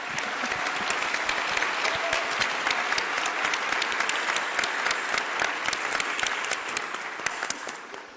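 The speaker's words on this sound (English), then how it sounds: "let's give him another round of applause." Sustained audience applause at a climate solutions conference keynote panel, a dense steady wash of many hands clapping for a panelist, loud and continuous throughout before tapering slightly at the end.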